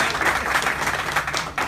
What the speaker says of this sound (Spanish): Y quiero darle un aplauso.